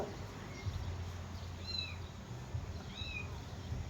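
A small kitten gives a few thin, high meows while being held, faint over a low background hum.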